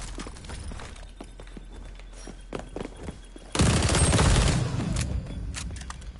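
Gunfire in the online shooter xDefiant, a burst of rapid shots that swells loudly midway through amid continuous game sound effects, with no talking.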